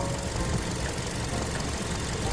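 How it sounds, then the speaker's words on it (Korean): A Hyundai Sonata The Brilliant LPI gas engine with about 210,000 km idles steadily, a low, even rumble with a faint knocking texture running throughout and no voices. "21만 킬로대 주행한 엔진 사운드 한번 듣고 가시죠"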